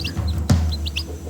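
Free-range kampung chicks give a few short, high chirps scattered across a moment, with one louder peep in the middle, all close by over a soft background hum.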